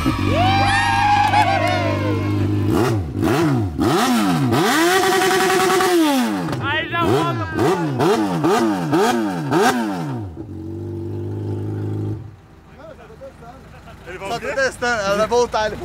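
Yamaha XJ6 motorcycle engine cranking, catching and revving hard in repeated rising and falling sweeps close by, then settling to idle, with people talking around it.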